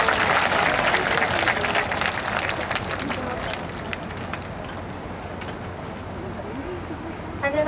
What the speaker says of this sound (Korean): 탈북 파페라 가수 명성희 씨를 큰 박수로 모시겠습니다.